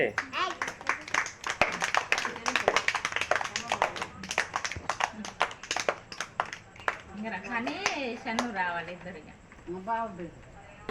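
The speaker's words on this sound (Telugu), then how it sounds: "క్లాప్స్ కొట్టురే" Family guests clapping at a traditional home birthday celebration, a run of sharp, irregular handclaps close by that fades as voices take over and chatter continues.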